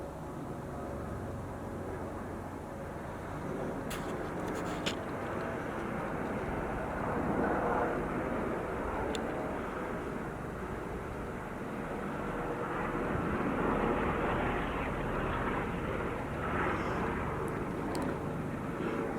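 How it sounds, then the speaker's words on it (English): A helicopter drones overhead on a desert hike at the Bowl of Fire, a steady loud rotor rumble swelling slightly and fading over time, with a few faint clicks in the foreground. "I want to show the effect the helicopters have."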